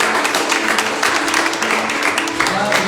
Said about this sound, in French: Et donc on applaudit pour Ricardo.